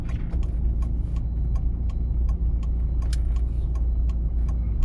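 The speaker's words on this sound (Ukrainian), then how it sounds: "Вмикаємо правий покажчик повороту" A car's right turn indicator ticks in a steady, regular rhythm of crisp clicks inside the cabin, over a low, constant engine and road rumble.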